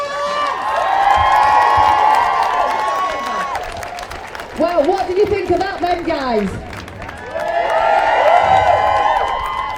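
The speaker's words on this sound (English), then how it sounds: "Give yourself a round of applause, guys!" A rally crowd in hot sun claps and cheers loudly, fades as a man calls out to them over the noise, then bursts into cheering again.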